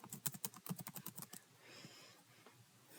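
Quick, close clicking of keys on a computer keyboard while code is being deleted, a steady run of keystrokes for about a second and a half, then quiet room tone.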